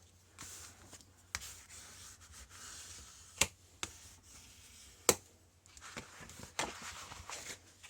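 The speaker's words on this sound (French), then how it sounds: "Je vais appuyer un petit peu sur les plis pour bien le mettre en place." Folds of a paper mini album pressed into place by hand, with soft rubbing and creasing sounds and a few sharp taps, close and quiet with no voice.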